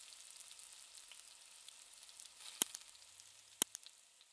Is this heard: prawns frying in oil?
yes